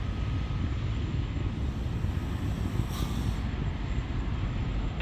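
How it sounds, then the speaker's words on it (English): A SpaceX Falcon 9 rocket climbing away after clearing the tower at Space Launch Complex 4 East, heard as a steady, far-off broadband roar, dense and rumbling, holding level throughout with a brief sharp knock at the end. "9 has cleared the tower at Space Launch Complex 4 East"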